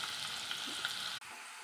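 Steady sizzling of onions frying in hot oil, close and continuous, with a brief break near the end before the hiss resumes.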